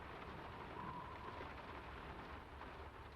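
Steady rainfall in the video game Draugen, set in a hillside village at dusk: a constant soft hiss of rain, faint and even, with no talking.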